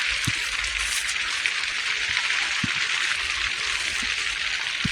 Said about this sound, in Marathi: कारण बाहेर पाऊस चालू आहे मरणाचा.